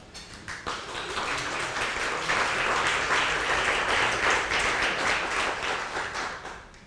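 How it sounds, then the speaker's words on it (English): An outdoor audience at a community beauty awards ceremony giving the mayor a round of applause, dense sustained clapping that swells quickly and holds for several seconds before starting to thin. "you got a special round of applause"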